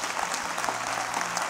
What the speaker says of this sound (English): New Birth, would you clap your hands for those who are, you go back to your seats.